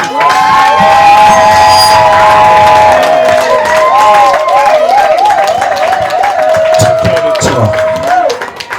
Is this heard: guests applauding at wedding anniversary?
yes